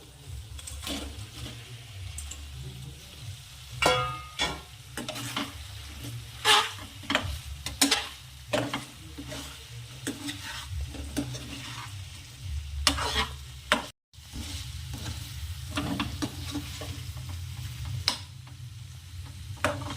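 Dry veg manchurian is stirred and fried in a pan, with a steady sizzle beneath repeated scraping clatters of a spoon against the metal, close and busy with a brief gap near the end.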